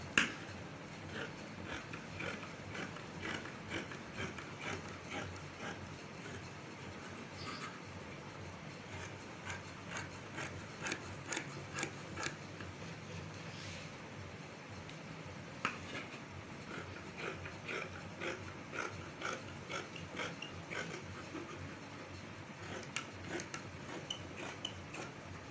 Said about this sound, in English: And I'm going to cut it now.